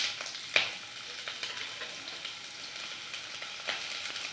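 Small shallots dropped into hot oil with mustard seeds and urad dal for beetroot poriyal, a continuous bright sizzle and crackle with a few sharp pops, close and with no talk.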